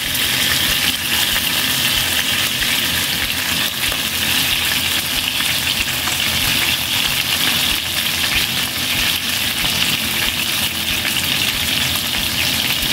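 Chicken drumsticks seasoned only with salt frying in a pan, a loud, dense, continuous sizzle and crackle heard up close throughout.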